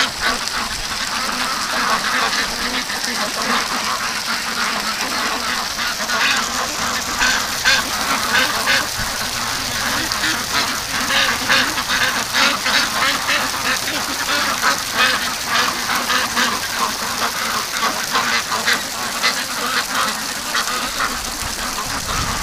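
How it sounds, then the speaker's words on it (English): A dense flock of ducks quacks continuously and loudly, many birds calling over one another in a busy, overlapping chorus with no talk. "Just listen to them quacking."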